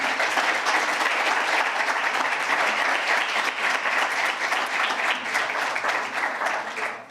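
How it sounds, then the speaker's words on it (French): Audience applause for the speakers at a citizens' forum, sustained dense clapping from a large crowd lasting several seconds, steady and loud before tapering slightly at the end. "Je pense qu'on peut applaudir nos intervenants"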